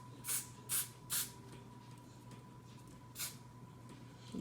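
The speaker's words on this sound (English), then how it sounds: "Spray this on the inside part just so I know it's laying right." Got2b High Insta Hold hairspray sprayed onto a wig, three quick short bursts in a row and then one more after a pause, close and crisp over a faint hum.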